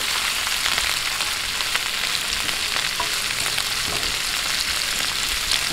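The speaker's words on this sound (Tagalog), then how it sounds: "sabay po natin sa paggigisa" Chicken feet sauté in a hot pan for adobo with a chicken cube added, giving a steady, close sizzle and crackle with faint stirring scrapes throughout and no talking.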